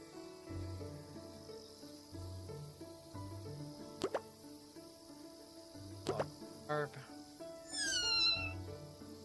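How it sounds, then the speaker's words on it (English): A kitten meows in a video game set in a small town, a few short cries spread across soft ambient game music with dripping, chirping background effects. "Kitten that needs feeding."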